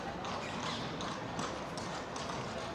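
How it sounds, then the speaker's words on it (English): Hooves of a horse pulling a carriage clip-clop on a street in Seville, faint and somewhat distant, a steady rhythm under general street ambience. "And you also got all these little horse and carriages to take you all around the city."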